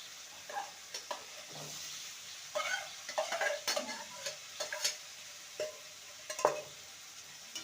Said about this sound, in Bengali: এবার ভেজে রাখা আলু আর উচ্ছে দিয়ে দেবো